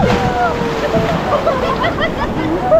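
Ocean waves wash and slosh at a beach resort in Morong, Bataan, a constant surf roar under wind noise with people talking and calling out close by.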